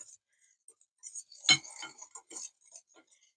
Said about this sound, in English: Just stir everything together.